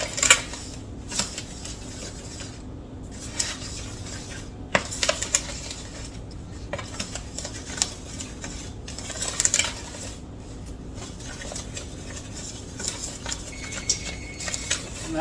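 A utensil stirs cake batter with a pinch of salt in a bowl, making quiet, irregular clinks and scrapes against the sides, spaced out over a low room background with no talking.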